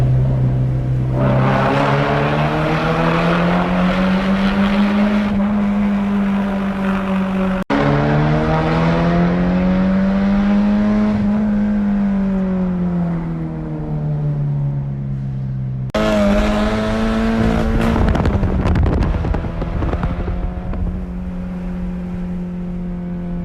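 A loud Scion FR-S sports car engine roars and revs continuously in a canyon, pitch rising and falling through gear changes, with a reverberant echo off the rock walls.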